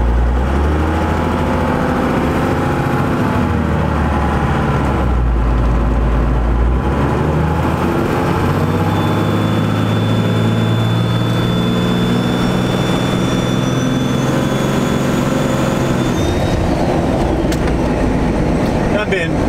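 Compound-turbocharged 12-valve Cummins diesel pickup cruising, a loud continuous engine drone with shifting tones and a rising turbo whistle late on, heard from inside the cab.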